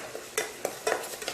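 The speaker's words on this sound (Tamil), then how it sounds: "முதல்ல எண்ணெய் காஞ்சாக்கில் வெங்காய பேஸ்ட்டு சேர்த்துடலாம்" Onion paste fries in hot oil in a pan, sizzling softly while a spoon stirs it in a few quick, light scraping strokes.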